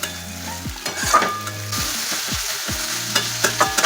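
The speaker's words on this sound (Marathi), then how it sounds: "कोबी सुद्धा मस्त त्या भाज्यांसोबत परतून घ्यायचा चांगला" Cabbage, capsicum and onion are stir-fried over high flame for Hakka noodles, a loud continuous sizzle cut by rhythmic scraping and clanking of a spatula against the pan, with no voices.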